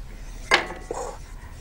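A saucepan clinks against metal utensils in a kitchen as butter melts and flour goes in: one sharp clatter, then a softer scrape, close and fairly quiet, with no talking.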